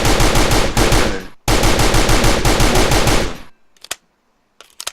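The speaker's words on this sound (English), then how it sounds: "So left to shoot my own rifle." Rifle fire in the Fortnite video game: two loud sustained automatic bursts lasting over a second each, separated by a brief gap, followed by a few isolated faint shots, with no voices.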